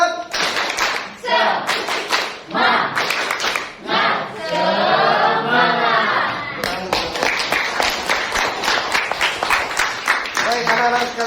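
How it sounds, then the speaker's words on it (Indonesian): Students in a classroom beat out a rhythmic spirit clap in quick bursts of claps, with a stretch of group chanting voices partway through, loud and close. "Tepuk semangat."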